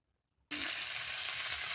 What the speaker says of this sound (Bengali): তো এবার আমি ওই তেলে আলুগুলোকে ভালো সুন্দর করে ভেজে নেব।